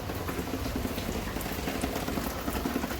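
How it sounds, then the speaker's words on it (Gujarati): Rain falls steadily on surfaces in Surat, a soft, even patter of drops that stays faint and continuous throughout. "પણ આમ જો વરસાદ"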